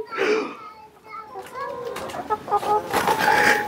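Laying hens on a small rooftop layer farm clucking in short bursts, mixed with children's voices and adult talk nearby.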